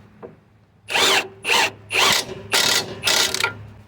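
Ratchet wrench turning a bolt on the suspension of a Honda CR-V, five loud, close rapid clicking bursts in an even rhythm with short pauses between them and no voices.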